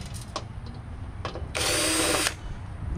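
A power drill backs screws out of a piece of lab equipment being scrapped, with a few short close bursts and then a sustained loud whir of about a second before it stops, amid faint handling noise.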